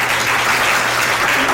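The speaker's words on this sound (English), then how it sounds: "Just one more round of applause for our two presenters today" A conference audience at a senior summit applauds two presenters, a dense steady wash of many hands clapping close and loud throughout, with no talking over it.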